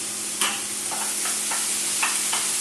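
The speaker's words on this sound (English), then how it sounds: "We're just cooking the bacon so it's relatively sauteed." Bacon sautéing in a pan gives a loud, constant sizzle with a handful of brief utensil scrapes and taps rising above it, close by and without talk.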